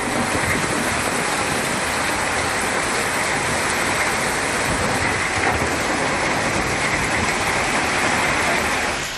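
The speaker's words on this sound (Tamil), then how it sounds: "சூறை காற்றுடன் மழை கொட்டியது" Heavy rain pours steadily with gusty wind during a hailstorm in Tamil Nadu, a dense, loud, unbroken roar of water with no voices.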